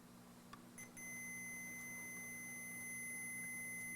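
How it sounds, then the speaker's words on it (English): A multimeter on continuity test gives a faint, steady electronic beep that starts about a second in and holds as a thin continuous tone over a low mains hum. "So I'm going to put my multimeter here onto continuity testing"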